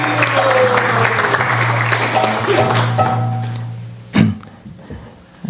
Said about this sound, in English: let's give Prabhuji and Mataji a big round of applause